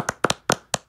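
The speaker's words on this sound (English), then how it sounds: "I want to give a round of applause for these limiters." A few sharp, close hand claps ring out in an uneven rhythm, some in quick doubled pairs, with clear silence between them.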